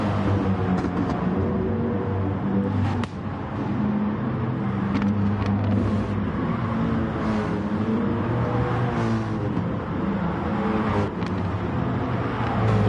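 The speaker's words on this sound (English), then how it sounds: "We're getting a couple of cars still on their out lap here." Race cars run on the Suzuka circuit in a racing video game, a continuous loud engine drone with shifting pitch as cars accelerate and pass, steady throughout without speech.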